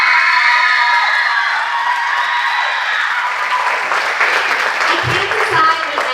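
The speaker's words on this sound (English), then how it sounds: "Please clap one more time for Archery." Audience at a school medieval festival cheers and applauds after an archery performance, with shouting and whooping voices at first, then a broad wash of clapping and crowd noise.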